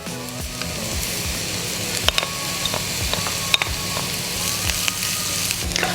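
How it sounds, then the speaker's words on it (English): Green onions and onions sizzle in hot vegetable oil in a cast iron pan, making a constant loud crackle close by, with sharp spatter pops and light scraping of a utensil throughout. "So adding the green onions and the onions into the oil first enhance the flavor of the oil."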